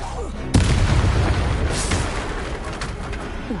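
A Confringo spell explodes in the video game Hogwarts Legacy, a sudden loud broadband blast that hits at once and then rumbles and crackles for several seconds, with faint chirpy effects over the fading roar.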